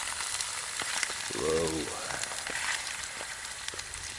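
Steak sizzles and fries in a pan over an alcohol stove at a wild campsite, a steady close crackle with a brief voice murmur partway through.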